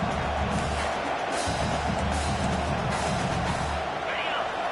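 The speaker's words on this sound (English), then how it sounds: "This crowd bringing the energy and noise early." College football stadium crowd at a Bruins versus Sooners game, a constant loud roar of many voices with cheering swells throughout, heard from within the stands alongside an announcer's talk.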